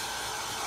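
A hair dryer on its cool setting blows a steady, close airflow over a freshly applied wax finish, with no speech.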